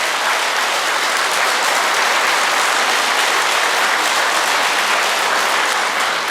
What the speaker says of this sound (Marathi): त्या सगळ्या डॉक्टर देवांच्यासाठी एकदा जोरात टाळ्या वाजवा